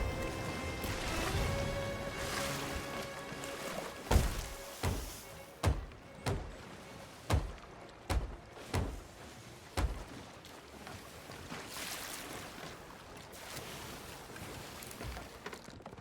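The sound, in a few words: repairing a hole in the ship in Sea of Thieves video game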